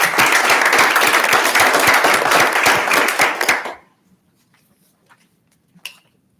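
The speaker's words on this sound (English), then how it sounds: "Let's give them a round of applause." Audience at a municipal council meeting claps steadily for several seconds, loud and dense, then the applause cuts off into near silence with a faint thump afterward.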